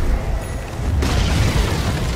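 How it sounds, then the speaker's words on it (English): A tower collapsing in Dota 2, a deep low-end rumble that steps up at about the one-second mark and continues as a sustained loud crumbling roar through the rest of the clip. "Radiant's middle tower has fallen."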